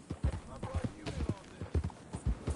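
Horse hooves clip-clop at a steady riding rhythm in Red Dead Redemption 2, close and clear, with a few soft game sounds around them and no speech over them.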